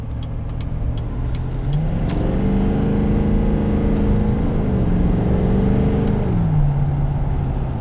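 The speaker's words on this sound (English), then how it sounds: "a ton of torque from this turbocharged V8" A car with a turbocharged V8 engine revs close by, its low rumble rising in pitch, holding, then dropping back to idle, loud and continuous.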